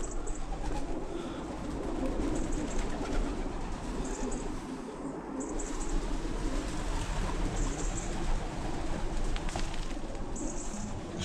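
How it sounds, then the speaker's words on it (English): Many pigeons roost inside the brick bottle oven of an abandoned pottery factory, their low cooing and shuffling forming a constant murmur with occasional higher chirps and flutters echoing in the enclosed space. "Must be thousands of pigeons up there. Can you hear them all jumping around?"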